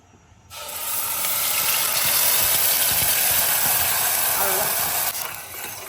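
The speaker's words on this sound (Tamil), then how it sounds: "எண்ணெய் ஊற்றியாச்சு, அதை அரைச்சதை எடுத்து அதில் போட்டுற வேண்டியது தான்." Ground masala paste hits hot oil with a sudden loud hiss that holds as a dense, steady sizzle for several seconds before easing slightly.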